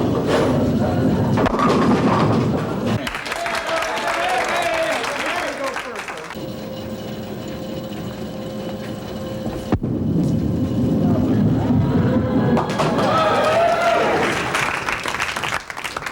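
A student crowd cheers en masse at a bowling match, a loud, dense roar that drops to a quieter lull midway and then swells back up near the end, with voices mixed in.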